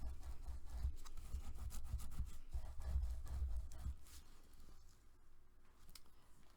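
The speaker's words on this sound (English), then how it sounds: "I'm going to burnish it." Paper being burnished for a folio, a close, soft rhythmic rubbing and scraping in quick strokes that fades to faint, sparse scuffs toward the end.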